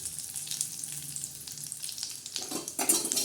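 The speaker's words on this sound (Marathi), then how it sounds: "लालसर जिरे असे भाजून तडकून घ्यायचे आहे" Cumin seeds and curry leaves crackle in a little hot oil for a tadka, a close hissing sizzle with scattered pops that swells louder toward the end.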